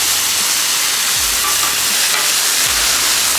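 Bacon frying in a pan gives a loud, dense, continuous sizzle and hiss, close up and unbroken, with a few faint low thumps beneath it.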